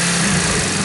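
A small engine fitted with a PWK carburetor runs loud and steady near the listener under a throttle test, giving a brief continuous buzzing roar with no clear rev swings and no speech.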